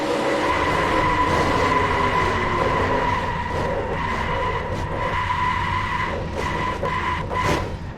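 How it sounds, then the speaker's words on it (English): A race car crashes and skids in the NR2003 racing game, a loud continuous grinding, scraping roar lasting several seconds with faint clatter near the end. "That was a pretty big crash."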